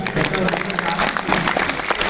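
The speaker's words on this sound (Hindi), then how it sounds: "अच्छी लगे तो तालियां भी बजाइए" Crowd applause at a Hindi poetry recital, a brisk, uneven patter of many hands clapping with a voice sounding over it throughout.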